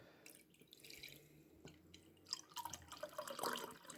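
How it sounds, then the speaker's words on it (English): Red ration drink from a Romanian Army combat ration pouch is poured into a glass, giving faint, uneven trickling and dripping splashes that grow busier toward the end, quiet and close with no talking. "Let's pour it out into a glass."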